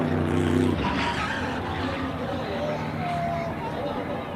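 A NASCAR Xfinity Series race car spins out on the apron during qualifying at Auto Club, with engine roar and tire noise filling the track under a busy crowd and commentary wash, loudest at the start then steady.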